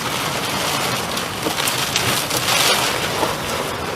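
Heavy storm rain from passing rain bands pours down in a dense, steady roar of drops hitting surfaces, loud and continuous throughout with no voices.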